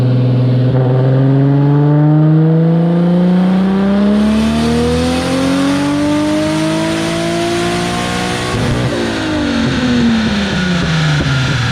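Turbocharged 1JZ engine in a Lexus IS300 with a top-mount Pulsar turbo running on a dyno, loud and close, its pitch climbing steadily through a long rev, then dropping sharply and rising again.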